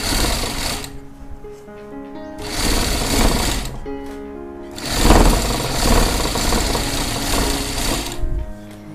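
A sewing machine stitches a jacket seam in three loud, close bursts of rapid mechanical hammering, separated by short quieter gaps with a lower motor hum.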